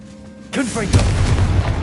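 Confringo blasting spell in Hogwarts Legacy, a sudden loud burst followed by a booming explosive rumble that lingers.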